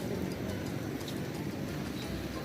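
Pigeons cooing softly among a crowded loft of birds kept in crates, with low rolling coos over a steady, busy background of fluttering and shuffling.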